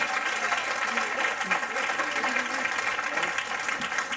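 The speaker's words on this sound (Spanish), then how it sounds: "Denle un aplauso." A church congregation at a Spanish-language general convention in Toronto applauds, steady dense clapping from a large crowd in a hall, loud and continuous for the whole stretch.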